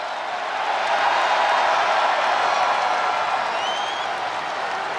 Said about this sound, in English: Seth Rollins is here and the crowd is freaking out